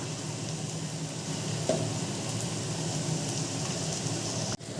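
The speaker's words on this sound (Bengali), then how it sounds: "এবার আমি সমস্ত মশলা ভালো করে কষিয়ে নেব।" Coriander, cumin and chili powders sautéing in a pan, giving a steady close sizzling hiss with faint stirring, one sharp clink near the end, no voices.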